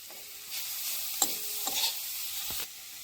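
Grated cauliflower and carrot stirred in a sizzling pan, a short burst of frying hiss with a few sharp scrapes of the spatula, close up and without any talk.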